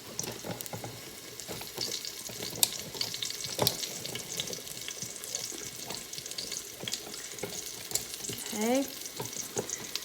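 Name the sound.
chicken sizzling while browning in pot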